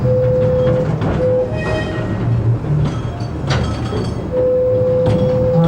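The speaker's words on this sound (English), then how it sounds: "We'll probably encounter a little bit of noise from the track, particularly on a couple of the bends this morning." A miniature railway train rolls along dry track with a dense rattling rumble, broken by a sustained high squeal from the wheels on bends that fades and returns.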